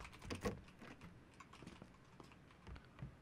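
Light typing on a Corsair computer keyboard during a PUBG session: soft, irregular key clicks and taps, fairly close, with a few louder strokes between quieter patches.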